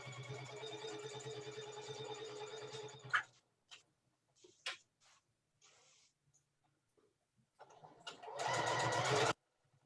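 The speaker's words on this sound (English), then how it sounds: "So now we're going to take it over to the machine and we're going to sew on those 2" A sewing machine stitches lines on a flying geese quilt block, a steady close mechanical whir for about three seconds, then a gap of light handling taps and clicks, then another short loud burst of stitching.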